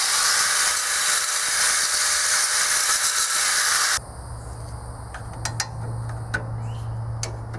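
Angle grinder cutting off a roll pin on a dump trailer's hydraulic cylinder: a loud, steady high-pitched grinding hiss for about four seconds, then it stops, leaving a low hum with faint scattered clicks and taps.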